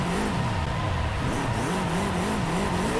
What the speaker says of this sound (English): Revving sounds are good.